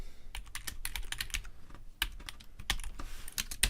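Fingers type code on a computer keyboard in quick, irregular bursts of clicking keys with short pauses between, close and clear.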